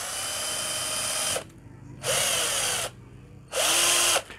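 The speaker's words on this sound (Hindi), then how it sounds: "इस ड्रिल के साथ एक, एक मैं बिट इसके अंदर लगाता हुआ आपको चेक करवाऊँगा" DeWalt cordless drill fitted with a flexible shaft and bit, run in three loud bursts of high whirring, each winding up and stopping, with short quiet gaps between them.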